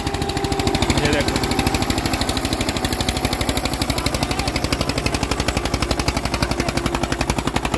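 A special Haryana tractor engine runs with a fast, even, thumping beat, like rapid pops, close and loud, holding the same rhythm for several seconds.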